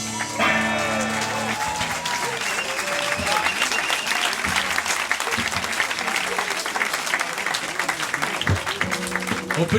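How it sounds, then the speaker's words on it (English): A concert audience breaks into loud, sustained applause, dense clapping filling the space from start to finish, with the tail of music at the start and brief voices mixed in. "On peut les applaudir bien fort."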